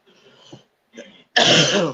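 A few short throaty coughs and a harsh throat-clearing, close and loud, ending in a longer rasping cough.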